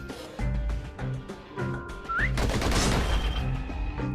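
Rapid pistol fire in the video game Bastion, a quick run of sharp regular gunshots that gives way to a dense burst of overlapping shots with a rising whistle-like tone, loud and close with no talking.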